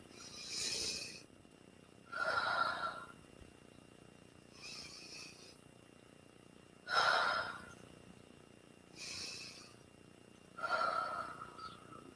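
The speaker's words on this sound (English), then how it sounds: "Take 3 inhales and exhales." Slow, deep breaths during a relaxation exercise: about six soft inhales and exhales spaced a couple of seconds apart, close and quiet with a faint hiss between them.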